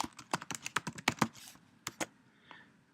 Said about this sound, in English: And I'm going to type in how to create functions.